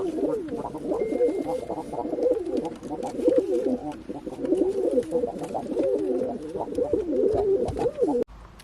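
Tumbler pigeons coo continuously and close up, a dense, overlapping burble of low throaty calls that carries on without pause.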